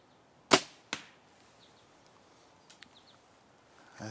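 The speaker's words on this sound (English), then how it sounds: "it shoots a nice quiet arrow which won't alert your animals as much" A Verdict compound bow shoots an arrow with a field point: a sharp, quiet thump on release, then a second crisp impact, followed by a few faint clicks in a quiet outdoor setting.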